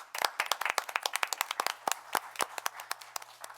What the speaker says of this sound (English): We can clap for Amy.